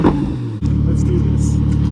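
A loud car engine idles close by with a steady low rumble, briefly dropping then resuming at an even throbbing pitch; a person talks over it.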